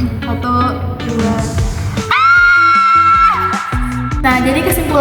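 Two people shout loudly at once, one high sustained scream layered over a lower yell, mixed with other voices and clattering, in a classroom sound experiment where salt vibrates.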